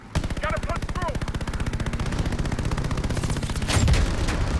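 Rapid automatic gunfire in Call of Duty: Vanguard, a steady loud machine-gun stream of evenly spaced shots throughout, with brief voice-like chirps early on and a heavier burst near the end.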